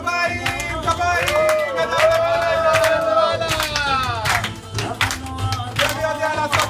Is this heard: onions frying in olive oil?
no